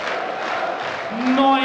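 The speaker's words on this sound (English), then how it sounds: "Stand up if you love the darts, echoing around the multiversum here in Vienna" Darts crowd at the Multiversum arena in Vienna, Austria, singing a sustained terrace chant that fills the hall, loud and steady throughout, with one voice rising clearly near the end.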